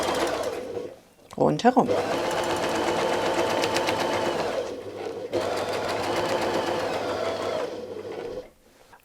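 A sewing machine stitches a circle on a quilt block with a circle ruler, running fast and steady for several seconds, pausing briefly, then continuing at the same pace before stopping; a voice speaks a word during the brief pause.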